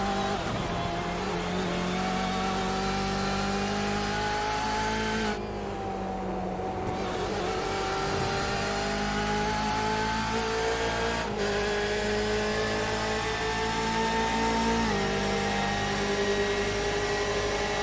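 Onboard recording from the number 24 sports prototype racing at Le Mans in a sim championship event: a loud, steady high-revving engine drone that holds on the straight, with a brief lift and dip in revs around a gear change midway.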